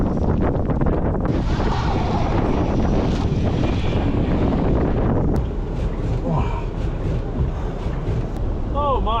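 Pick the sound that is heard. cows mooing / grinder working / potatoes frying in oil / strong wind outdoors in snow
strong wind outdoors in snow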